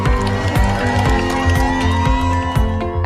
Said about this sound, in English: the bar takers were met with cheers and applause as they emerged from the examination site